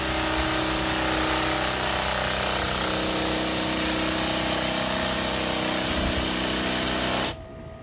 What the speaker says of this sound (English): we're drilling holes